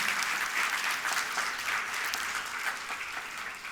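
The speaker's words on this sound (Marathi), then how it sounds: "सो जोरदार टाळ्या मृदुलसाठी" Loud, sustained applause from an audience at a school annual social gathering, dense steady clapping filling the hall without a break.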